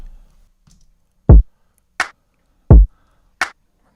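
A chopped hip hop drum break triggered from a drum rack for a neo soul beat: deep booming kicks alternate with sharp, snappy snare hits, four dry, close and loud strikes in a steady groove with silence between them.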